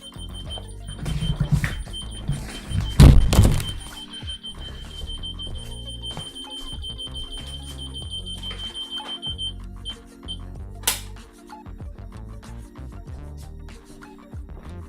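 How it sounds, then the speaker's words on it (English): An old alarm clock rings with a steady, bright metallic trill that runs for most of the stretch, close by and fairly loud, with brief louder clatter near the start and no talking. "it's my alarm, like an old alarm has been doing that"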